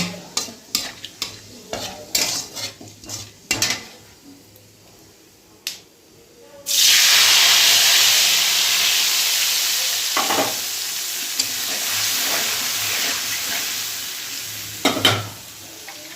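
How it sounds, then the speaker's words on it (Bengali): A tempering of torn bay leaf and whole cumin seeds crackles and pops in hot oil with scattered utensil clicks, then a prepared spice paste hits the pan with a sudden loud, sustained hiss that slowly fades, for a vegetarian cabbage dish. "ফোড়নটা ভালো করে ভেজে এবার মশলাটা যে রেডি করে রেখেছি সেটা দিয়ে দেব"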